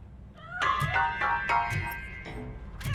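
A cat meows several times in a video game, a run of short rising and falling cries close up and fairly loud with no talk over them.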